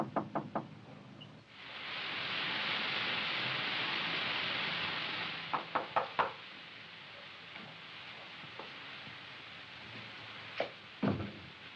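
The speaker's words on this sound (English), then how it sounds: "Oh! Well, at least you might have knocked." Knocking on a door in a monster movie: a quick burst of three raps, then a long hiss, then two more clusters of knocks, with sharp, fairly close raps and faint thuds between.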